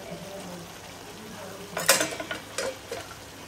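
Salted food is stirred in a cooking pot, a few short scraping and clinking bursts of a spoon against the pot over soft kitchen background.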